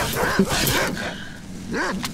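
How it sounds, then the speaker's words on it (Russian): Dogs barking in the survival game DayZ, a few yelping barks mixed with someone talking over them. "Опять собаки"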